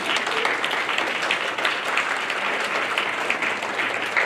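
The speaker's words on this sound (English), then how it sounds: "Let's have a round of lauding applause for Dr. Hua Lin Li, please." Steady applause from a banquet audience at an anniversary celebration, dense and continuous clapping filling the room at a fairly loud level with no voices over it.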